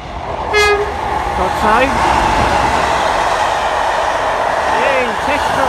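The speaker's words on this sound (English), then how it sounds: "we've got a class of 37 test train coming through platform 1, Derby RTC going south." A Colas Rail Class 37 diesel test train, 37219, bound from Derby RTC, runs through platform 1 at Harborough station with a loud rumble and short horn toots, while a voice speaks briefly over it.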